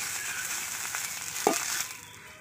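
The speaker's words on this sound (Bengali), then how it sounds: "এবার আমি তেলটা দিয়ে দিচ্ছি" Oil poured into a heated clay pan sizzles and crackles steadily, with one sharp clink partway through, close and fairly loud.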